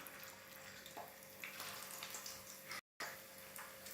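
A batch of snack made from leftover cooked rice frying in hot oil gives a close, continuous bubbling crackle with a faint stir or two, steady throughout apart from a brief dropout, with no talking.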